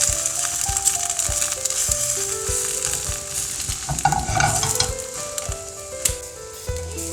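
An egg frying in a little oil in a pan, a bright continuous sizzle and crackle up close, with occasional knocks and shuffles as the pan moves and the egg slides around.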